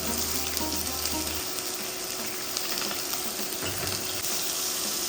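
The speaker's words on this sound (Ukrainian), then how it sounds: "Перемішуємо силіконовою лопаткою" Steady loud sizzling of meat frying in a pan with garlic, chili and ginger, with scraping and clicking from a silicone spatula stirring through it.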